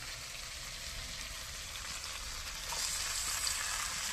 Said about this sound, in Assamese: বিলাহীখিনি ভাজি লওঁ অলপ